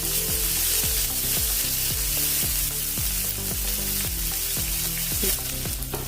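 Green onion leaves fry with cumin seeds in a pan of oil for a wheat-flour methi breakfast snack, giving a loud, steady sizzle with repeated clinks and scrapes of a spoon stirring throughout.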